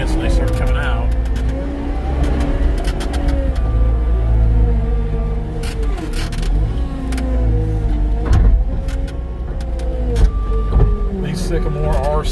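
Forklift engine running steadily while hauling slick sycamore logs, a loud, close, continuous motor drone with shifting pitch and clanks, with someone talking over it.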